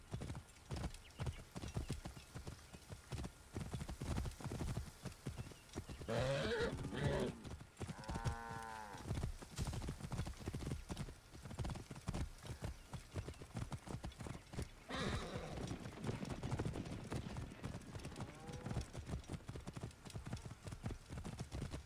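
A racing horse in the game Assassin's Creed Origins gallops with rapid rhythmic hoofbeats throughout, joined by a brief whinny partway through and faint voices over the steady pounding.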